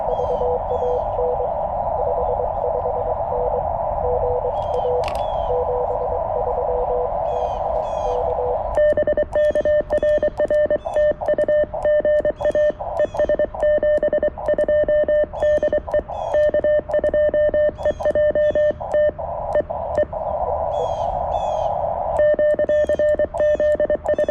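Morse code CW tones from a CFT-1 amateur radio during a portable outdoor activation: a steady tone shifting into rapid keyed beeps of dots and dashes over background hiss, continuous and moderately loud, with no talking.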